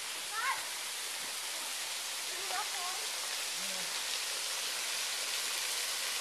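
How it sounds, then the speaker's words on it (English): Waterfall on an outing with kids, a constant broadband roar of falling water running throughout, with faint bird chirps and brief voices above it. "Let's see this waterfall."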